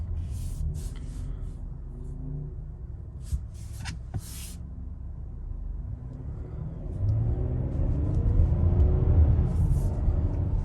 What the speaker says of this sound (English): Puts out a little bit more RPMs in the sport mode.